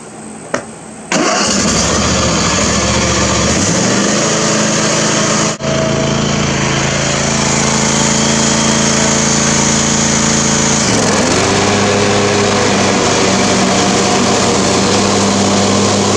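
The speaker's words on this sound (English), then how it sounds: "It is time to mow." A lawn mower with a restored deck starts with a sharp catch, then runs loud and close at a steady, droning engine pitch that shifts slightly as it works. No voices are heard.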